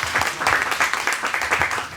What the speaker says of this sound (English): So we'll give a great applause for yourself.